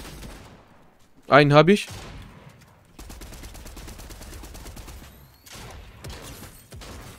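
Rapid gunfire in Fortnite follows a short spoken remark: a steady run of sharp, clicky shots at moderate loudness continues for several seconds, broken by brief pauses and mixed with quieter game noise.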